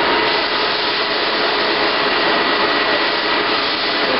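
Wok table burners on a food truck roar loudly and continuously, a dense, steady, rushing blast of flame and airflow up close with no breaks.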